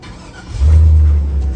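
A car engine cranked with a JFEGWO F40 jump starter catches and fires up, a short quiet lead-in then a loud steady low idle rumble.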